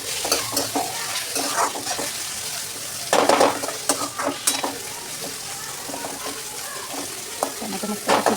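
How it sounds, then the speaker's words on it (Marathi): Onion and tomato sizzle in a pan, fried for a soybean chunk masala dish, while a spoon scrapes and clatters against the metal in uneven strokes, close by and fairly loud. "टोमॅटो पण छान परतून घ्यायचा."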